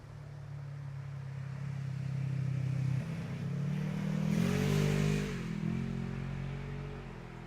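ATVs on a forest trail in Nemadji approaching and passing, a moderately distant engine drone that swells with a revving rise and then eases off.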